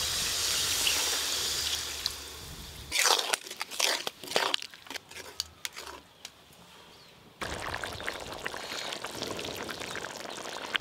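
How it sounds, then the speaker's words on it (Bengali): Water poured into fried spice paste in a pan for a pangas fish curry, giving a loud hissing sizzle at first, then a stretch of clattering and stirring bursts before a steady bubbling hiss returns. "মশলা থেকে সুন্দরভাবে তেল ছেড়ে গেছে। জল দেব।"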